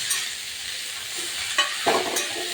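Chopped bottle gourd stirred into hot oil, giving a soft continuous sizzle with a few scraping spoon strokes near the end.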